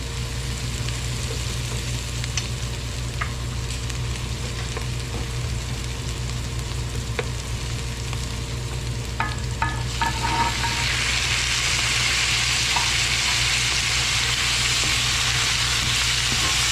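Shrimp fry in a pan for a Filipino shrimp and oyster sauce dish, a loud continuous sizzle with a few metallic stirring clinks midway, the frying swelling louder toward the end.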